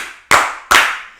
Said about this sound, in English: We clapping? Can we clap?